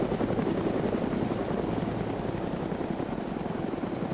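Aircraft engine drone in the DayZ video game, a steady broadband rumble with a whirring, rotor-like flutter that holds at constant loudness throughout, with no talk.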